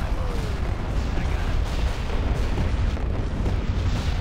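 Starship weapons firing in a Star Wars space battle game, dense rumbling booms and blasts overlapping continuously, loud and close with no pauses.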